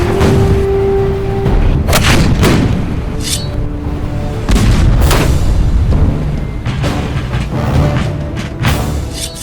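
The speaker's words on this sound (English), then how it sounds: "ships in the harbor try to pin down the militia with cannon fire" Heavy booms of cannon fire from ships in a harbor roll out one after another, loud and deep, with irregular blasts and rumbling echoes between them.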